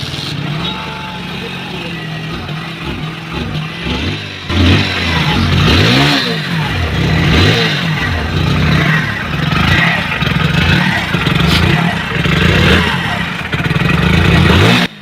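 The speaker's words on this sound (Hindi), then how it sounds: "मैं इसे एक किक में बाइक चालू हो चुकी है" Hero HF Deluxe BS6 motorcycle running after a kick start, steady mid-pitched engine putter with a few revs rising and falling, close and continuous, with faint background noise.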